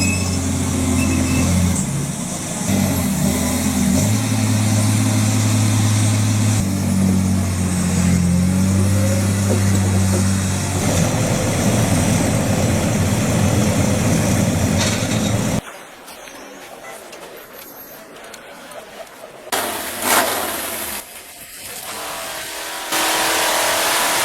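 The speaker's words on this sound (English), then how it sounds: "A V8 engine keeps a massive chain running at full speed" A V8 engine on a forestry machine drives a massive chain at full speed, a loud continuous mechanical roar with shifting low tones for about fifteen seconds, then cutting to quieter, broken machinery noise.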